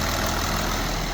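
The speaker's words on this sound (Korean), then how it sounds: "지금 엔진 소리만 들리고 있거든요" Kia Mohave engine idling after an electric fan installation, a steady loud low rumble with an even hum that stays constant through the whole short stretch.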